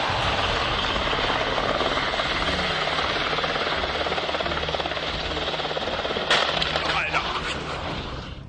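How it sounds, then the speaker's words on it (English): A Berlin police helicopter's rotor thumps steadily and loudly, then a sudden crashing burst of noise breaks in near the end and trails off. "Berlin police helicopter crash."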